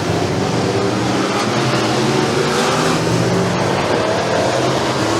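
Pure stock race cars at Bradford Speedway roar down the back straightaway in a dense, loud, unbroken wall of engine noise.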